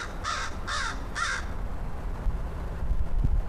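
A crow perched on a post caws three times in a quick, evenly spaced series, loud and near, then falls silent over outdoor background noise.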